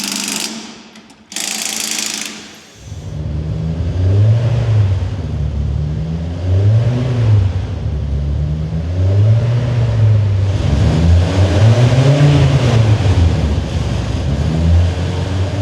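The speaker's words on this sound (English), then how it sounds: "With the car warming up" A Ford Escort Mk1 with a Twin Cam engine warms up loud and close after a few short clicks, idling with a rough, pulsing rumble and repeated gentle blips that rise and fall.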